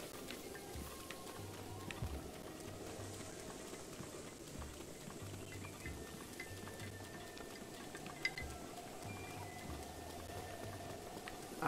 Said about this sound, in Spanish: Es que está lloviendo.